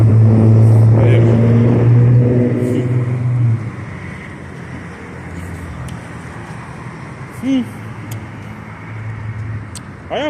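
Cars pass along a road beside a canal-side river walk park. A loud tonal drone opens the stretch, then it settles into a quieter, steady traffic rumble and hiss with occasional swells.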